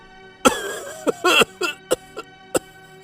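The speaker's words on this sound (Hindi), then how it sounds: "फिर से जोर से खांसने लगे" A series of loud, harsh coughs from a cartoon story character in short bursts, with brief pauses between them, close and alone without speech.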